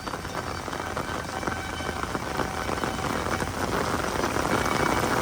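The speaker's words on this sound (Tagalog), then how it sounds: "Sunod-sunod ang lakas ng ulan niya." Heavy, steady rain pours down in a flooded part of Marikina City, a dense, even hiss with no let-up and no voices.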